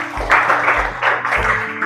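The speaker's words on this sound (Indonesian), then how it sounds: "Tepuk tangan dulu untuk mereka." Applause from students in a vocational high school classroom in Banjarmasin, dense and steady clapping that swells in a few bursts over low room rumble.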